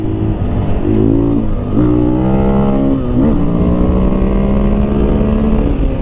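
A 2023 KTM 500 EXC-F dirt bike roars hard into a corner, its engine loud and close, dipping briefly off the throttle before pulling back up with rising, revving pitch that settles into a sustained drone.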